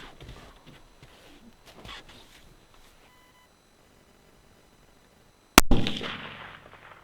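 A single sharp, loud rifle shot from a 6.8 Western fired outdoors during velocity testing, bursting suddenly after several seconds of near silence and trailing off in a short echo.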